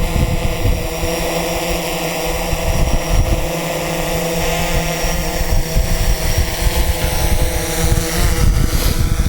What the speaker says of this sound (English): So there's the right, and there's the Typhoon H spinning